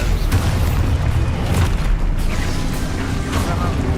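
The Expulso blasting spell in the Hogwarts Legacy game erupts as a sustained, heavy rumbling boom with repeated crackling bursts layered over it. The sound is loud and close, and a voice is faintly present underneath.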